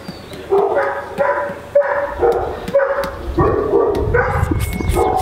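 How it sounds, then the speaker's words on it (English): A dog barks repeatedly nearby, a steady series of sharp barks with short gaps, loud and clear with no talking. "There's a dog barking."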